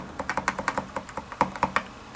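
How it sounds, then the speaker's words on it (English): Repeated presses of the delete key on a computer keyboard while an ASRock-based PC boots toward its BIOS: about a dozen crisp, close clicks in an uneven, fast rhythm, alone with no voices. "we're going to continue to press the delete key on the keyboard here so we can get into the BIOS"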